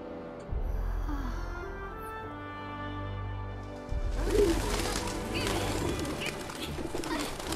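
Pigeons coo in Final Fantasy 7 Remake, soft low throaty calls over a game soundscape that grows busier with ambient city noise partway through.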